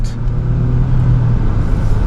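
A 2.3-litre EcoBoost Ford Ranger pickup, Mustang-derived turbo four-cylinder, accelerating with a steady loud low engine drone that swells slightly, heard from inside the cab with no talking.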